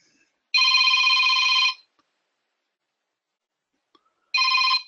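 A new mobile phone rings with a loud electronic ringtone, one sustained burst of a bit over a second, then silence, then another burst starting; no voices.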